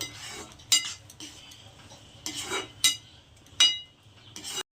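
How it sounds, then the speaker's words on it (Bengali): Utensil scraping and clinking against a pan while chilli egg is mixed with ground black pepper, with several sharp metallic taps and a soft continuous stirring rustle between them, close and fairly quiet. "গোলমরিচের গুঁড়ো একটু দিয়ে দেবো এটাকেও খুব ভালো করে মিশিয়ে নেব"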